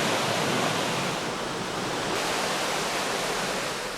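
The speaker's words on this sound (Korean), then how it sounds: "오로지 폭포 소리에 귀 기울여 마음 비워보는 시간" A waterfall rushes in a constant broadband roar, loud and steady throughout without break or voices, filling the air like dense white noise.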